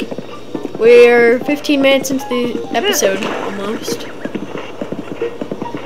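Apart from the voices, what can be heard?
horse hooves in Zelda Breath of the Wild video game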